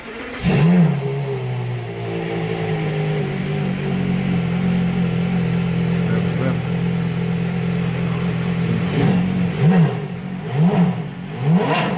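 Porsche Carrera GT engine holding a loud, steady high rev for several seconds before a few sharper throttle blips near the end, close by with no talking.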